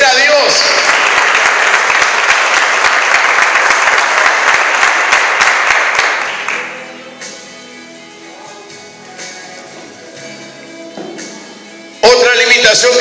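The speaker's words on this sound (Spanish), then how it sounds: "digan esta noche con un fuerte aplauso" A church congregation applauds loudly and steadily for several seconds during a sermon, then the clapping fades into scattered claps and murmurs before a burst returns.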